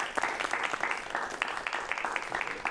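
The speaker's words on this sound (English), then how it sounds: "So a round of applause for Barlow Jacobs." A round of applause rises at the close of a walking interview: a small group claps in quick, distinct strokes, moderately faint and steady for the whole stretch with no talk over it.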